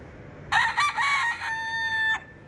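A rooster crows once in a long, loud cock-a-doodle-doo among chickens in Key West, rising then holding a drawn-out final note over quiet outdoor background.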